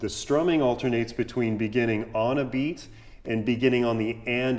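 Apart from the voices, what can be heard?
No everyday noise stands out behind the speech.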